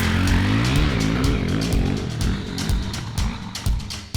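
A CCM adventure motorcycle revs hard and accelerates away, its engine note climbing through rising pitch sweeps and gear changes, loud and close, with wind buffeting and sharp crackles as it pulls off.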